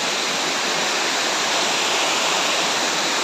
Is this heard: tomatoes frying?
no